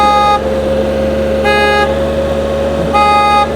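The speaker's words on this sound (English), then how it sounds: "So let's check this horn, shall we?" A Fiamm Freeway Blaster horn on a motorcycle gives three short, loud honks at close range, evenly spaced against a steady engine drone.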